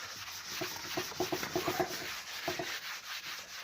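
Soft, rhythmic rubbing strokes of felt across a decorative textured surface, a quick series of scuffs, then a pause and two more near the end.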